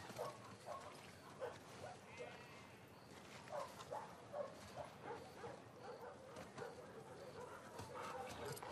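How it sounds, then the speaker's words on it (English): A dog in The Last of Us Part II gives soft repeated whimpers and yips in a game scene, faint and intermittent over steady background ambience. "Look at that doggy."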